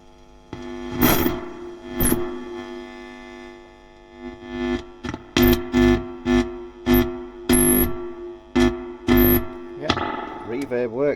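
Guitar played through a Mesa Boogie Studio Preamp to test its reverb: strummed chords ring out, then a run of short plucked notes, each trailing a reverberant tail over a faint background hum.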